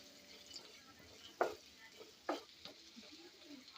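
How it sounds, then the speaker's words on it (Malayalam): Macaroni ingredients sautéing in a pan until wilted, a faint quiet sizzle broken by two sharper stirring scrapes of a spoon. "അത് വാടുന്ന വരെ ഒന്ന് വഴറ്റി കൊടുക്കണം"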